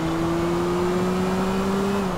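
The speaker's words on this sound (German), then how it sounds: "und gucken mal, wie die Beschleunigung denn ist. So, und da auf jeden Fall geben wir mal Gas" A modded BMW X6 SUV accelerating in GTA IV, its engine a steady, loud drone whose pitch climbs slowly and evenly throughout, with no talk.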